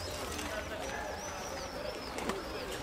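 Young pigeons coo softly in a low, steady murmur, fairly faint against a constant background hiss, with a faint higher chirp drifting above.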